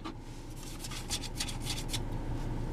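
A hand rubs and scrapes across thicker plastic interior trim inside a 2015 Chrysler 200, giving a faint, close, dry rasping in short repeated strokes over a low hum.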